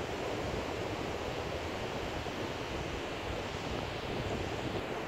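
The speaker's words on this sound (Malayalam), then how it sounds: "നല്ല ഹൈ തിരമാലയാണ് വരുന്നത്" High sea waves roll in at Payyambalam Beach, a steady broad wash of surf mixed with wind rushing across the microphone, loud and unbroken throughout with no talking.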